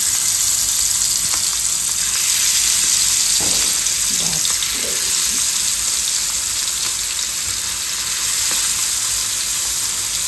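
Spiced fish pieces coated in turmeric frying in hot oil, a loud steady hiss of sizzling throughout with a few faint knocks of utensils.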